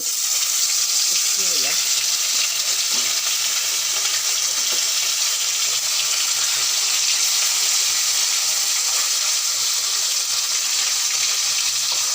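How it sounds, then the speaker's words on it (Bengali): Fish sizzles steadily in hot oil in a pan, a continuous even hiss of frying that holds at one level from start to finish, close and fairly loud, with no clear talk over it. "এই যে মাছ আগে ভেজে নেব"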